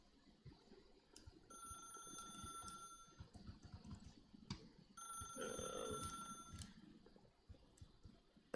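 An old-style telephone bell in The Stanley Parable video game rings in two clear bursts separated by a short pause, fairly loud over a soft ambient background.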